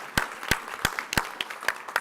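An audience applauds a congressman at an indoor gathering with faint, scattered hand claps and distinct sharp individual claps over a soft, steady wash of clapping, heard from a distance.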